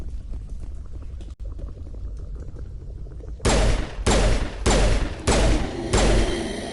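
Gunfire with shredder rounds in the Mass Effect video game: after a quiet stretch, four loud bursts of rapid shots, each lasting about half a second, with short gaps between them.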